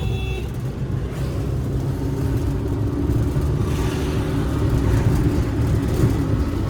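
Inside a car on the move, a loud, steady engine and road rumble continues throughout with slight surges as it speeds up, and nobody speaks.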